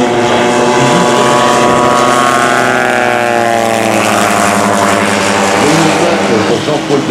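A Bücker Jungmeister aerobatic plane with a radial engine flies past at an airshow, its loud, droning engine tone bending in pitch as it approaches and pulls away over about seven seconds, with talk over it.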